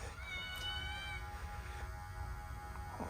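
Several cats meowing close by in a garage during a Chevy Equinox repair, a drawn-out meow near the start followed by fainter shorter calls over a low steady hum.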